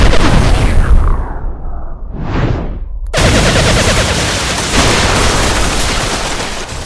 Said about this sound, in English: Target their power center and fire!